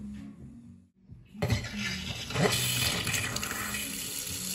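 Water gushes from a kitchen tap after a brief quiet moment, a steady splashing flow into a sink that starts abruptly and continues, with light clinks mixed in.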